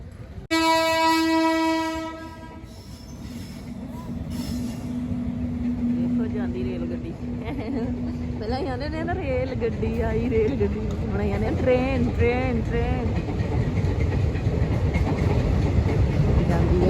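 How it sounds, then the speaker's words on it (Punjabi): A train passes a railway level crossing in the evening. A loud horn blast opens, then a heavy rolling rumble and clatter build steadily and stay loud, with people talking faintly underneath. "ਟ੍ਰੇਨ"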